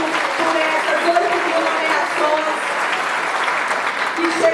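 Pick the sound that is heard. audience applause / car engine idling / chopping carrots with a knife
audience applause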